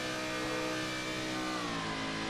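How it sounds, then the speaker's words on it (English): Racing car engine in rFactor 2 revs in a sustained, loud, dense whine with gradually shifting pitch, heard alone without talking. "the engine is sucking in hot air like I was talking about before"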